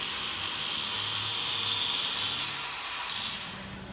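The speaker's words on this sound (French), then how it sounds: "Je suis en train de limer la structure." A metal structure being filed by hand, a steady close rasping scrape that runs continuously with slight changes in pressure, no talking.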